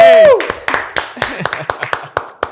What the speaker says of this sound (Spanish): Un aplauso, Paola